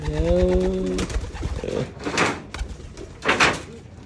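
Pigeons out on free flight training, with wingbeat flutters and a few short coos over open-air noise, plus a brief harmonic tone at the start; a voice speaks faintly in the background.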